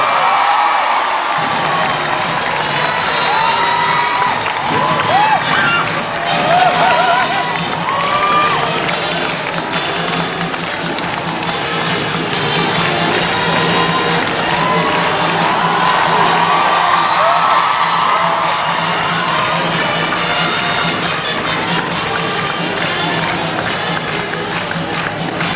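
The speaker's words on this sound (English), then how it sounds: "let us all give a resounding round of applause to our 8 summa cum laude" A large commencement crowd at a 2022 university graduation applauds and cheers for honor graduates, a sustained loud roar of clapping with whoops and shouts throughout.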